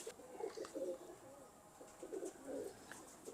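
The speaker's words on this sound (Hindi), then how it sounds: "बट साहब, मज़ा आ गया यार ये कबूतर देख के।" Soft coos from Taddy pigeons repeat in short rounded phrases, fairly close, with faint background noise between them.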